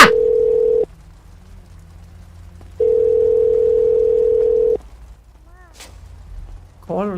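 A telephone line gives a call-failure tone, two long steady beeps separated by a pause, followed by faint clicks and a brief warbling tone at the end.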